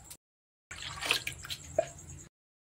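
Water poured over soaked rice for neer dosa batter, a short close splashing pour lasting about a second and a half, with a few drips and gurgles and silence on either side.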